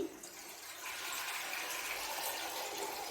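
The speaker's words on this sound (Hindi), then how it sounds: "पहले मैं ये डाल दूं और अब मैं पानी डालूंगी" Water being poured into a pot of beef stock for Bannu-style beef pulao, a continuous hissing gush that starts abruptly and runs steadily for about three seconds, close and fairly faint, with no talking.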